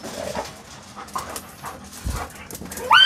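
A Doberman dog panting and snuffling at close range, quick breathy huffs with small whimpering noises, recorded outdoors amid faint background sounds and a brief sharp noise near the end.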